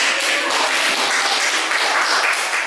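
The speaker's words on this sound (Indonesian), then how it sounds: "tepuk tangan" Steady applause from an audience at an Indonesian community mentoring session, dense and even clapping sustained loud and close throughout without pause.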